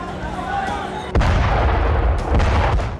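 Heavy bombing and artillery strikes on homes in Gaza during the Israel–Palestine war, a deep booming blast landing abruptly and rumbling on with a second surge of rolling thunder and debris noise.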